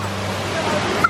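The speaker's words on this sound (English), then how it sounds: "All right, so there's the waterfall." Steady, close rushing roar of a waterfall, an unbroken wash of falling water with no voices over it.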